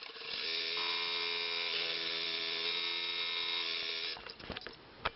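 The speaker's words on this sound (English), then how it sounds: "I'm going to take this to the machine and start stitching" A quilting machine stitches a strip-pieced block with a steady, close mechanical whir for about four seconds, then stops, leaving a few faint clicks and a sharp tap.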